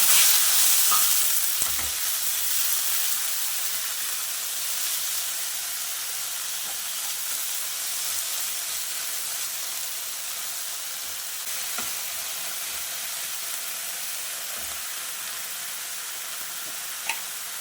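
Amaranth leaves fry in hot oil with a garlic and mustard tempering, a steady close sizzle and hiss throughout, loudest at the start, with a few faint stirring knocks.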